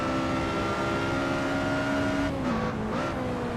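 A Lotus Exige Scura at Imola in Assetto Corsa holds a loud, steady engine drone at full throttle, its pitch dipping briefly near the end as it shifts, with no talking over it.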